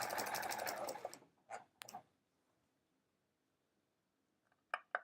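A sewing machine stitches strips for a metallic hourglass quilt in a short close whirring run. It stops, then gives a few brief clicks and stitch bursts separated by quiet gaps.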